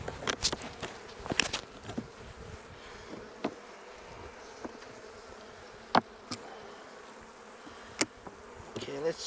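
Honey bees swarming around an open hive during a spring inspection, a steady close buzzing drone with individual bees zipping past the microphone and a few sharp handling clicks.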